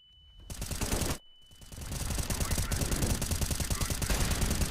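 Sustained automatic gunfire in a video game, one short burst and then a long unbroken stream of rapid shots, loud and close.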